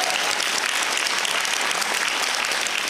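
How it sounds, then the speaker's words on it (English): Loud, dense audience applause fills the room without a break at a school debating competition, with the whole crowd clapping evenly throughout. "Let's give another loud round of applause for the schools exiting the competition"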